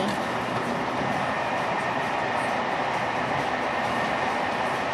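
Interior of a moving train in Paris, a loud continuous rumble and rushing hiss of carriage and track noise, steady throughout with no talking.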